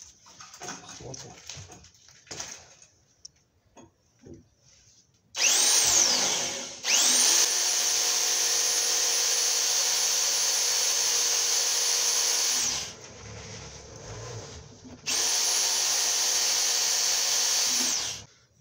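AliExpress drill chuck on a rotary hammer boring with a freshly bought bit: loud, steady whining drill bursts from about 5 to 13 seconds and again from 15 seconds, each with a rising spin-up, preceded by quieter handling clatter.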